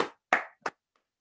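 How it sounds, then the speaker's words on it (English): Three separate handclaps from a single person during an online podcast, loud and close with short gaps between them, then silence apart from a faint tick. "So let's all give her a virtual round of applause."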